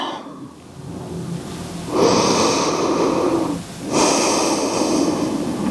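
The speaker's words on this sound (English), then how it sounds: "Breathing deeply." Slow, deep breaths during yoga, each a long airy inhale or exhale lasting about two seconds, close and steady, with no talking.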